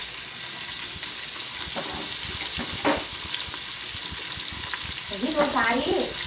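Chicken and onions fry in a pan, giving a steady, close sizzle with occasional stirring scrapes and a brief voice near the end.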